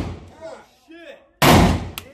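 A gunshot fired at an indoor gun range bursts loud and close after a moment of excited talking, followed by a short echoing tail.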